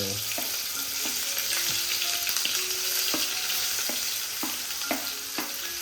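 Sliced onions fry in a pan with a steady, close sizzle, punctuated by sharp clicks and taps of a spoon stirring against the pan, with no talking.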